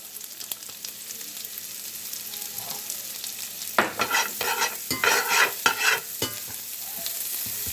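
Onions and then garlic sauté in a pan, starting as a faint background sizzle before louder bursts of stirring and scraping crackle through the middle, with no voices.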